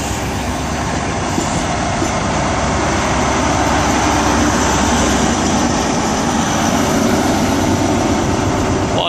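Train pulling out of Exeter St David's station on a Sunday evening, a loud continuous roar of engine and rolling wheels holding steady throughout with no voices.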